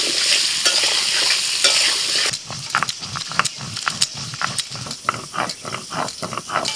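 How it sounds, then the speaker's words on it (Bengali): Diced potatoes frying in hot oil with salt and turmeric for a drumstick curry: a steady sizzle, then rhythmic spatula strokes scraping and tossing the pieces, close and fairly loud. "প্রথমে আলুটা একটু ভেজে নেব"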